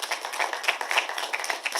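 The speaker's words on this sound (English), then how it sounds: "A big round of applause for Deepika." Scattered clapping greets a guest at the inauguration of the India Pavilion at Cannes, a thin run of individual sharp claps with a somewhat distant, hollow quality.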